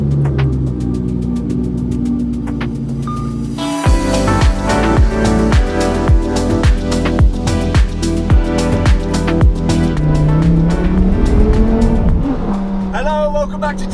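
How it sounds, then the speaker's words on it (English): Lamborghini Huracan Evo starting a drive, its engine droning and revving through repeated rising and falling gear pulls, loud and close from inside the car, with a person talking over it. "let's jump in the Lambo and get going"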